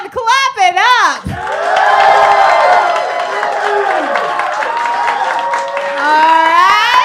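Live audience clapping, cheering and whooping to vote for a contestant named Ben at a roast battle, loud and sustained after a brief burst of speech at the start.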